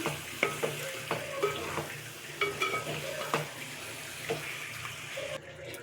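Raw snails stirred in a cooking pan, with scraping, clicking stirs against a wet, sizzling background and a few louder knocks at an uneven rhythm.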